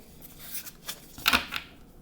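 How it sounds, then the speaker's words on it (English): Tarot cards being shuffled by hand, a few soft riffling bursts with one brief crisper flutter, quiet and close. "Yeah, I'm about to shuffle."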